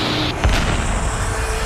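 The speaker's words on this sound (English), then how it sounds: "There's an explosion on impact, and the small plane bursts into flames." A small turboprop plane explodes on impact after being struck by a landing Boeing 737: a single brief, heavy boom rises out of a steady, loud rumble and then fades back into it.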